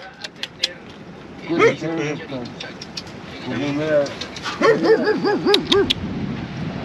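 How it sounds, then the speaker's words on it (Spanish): A dog at a remote countryside home gives several close, loud yelping barks in quick succession, mixed with people talking and bird coos. "Ah, el perro."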